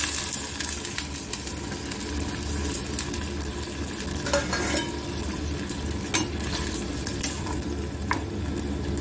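Soaked chana dal goes into a hot pan with potatoes and is stirred, giving a loud continuous sizzle with scattered scraping and clinking accents from the stirring, and no talking.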